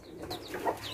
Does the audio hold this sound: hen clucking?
yes